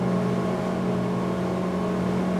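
Aquila 36 Sports power catamaran engines holding steady at cruising speed, around 5,000 RPM and 20 knots, a continuous loud droning hum with a strong low tone and no breaks.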